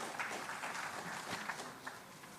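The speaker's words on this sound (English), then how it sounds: "big round of applause to the Maheshwari sir also" A conference audience applauds in a faint, steady patter of many hands clapping that lasts throughout, heard from some distance.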